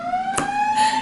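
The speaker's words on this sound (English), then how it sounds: "there's a siren going off" A siren wailing outside, a steady high tone sustained through a brief moment, fairly loud and alone with no talking.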